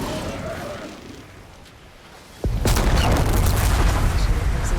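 In Horizon Forbidden West a dropped bomb explodes with a sudden loud burst about halfway through, after a quieter stretch, and its blast and debris roar holds steady at high level afterward.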